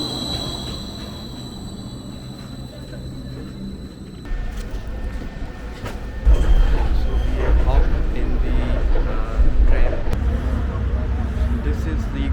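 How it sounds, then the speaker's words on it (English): Rail traffic at a tram station at the bottom of a hill in Istanbul, with low rumbling and rolling noise growing louder as a tram passes close by, under a busy street background. "Now we have reached down the hill and here's a tram station."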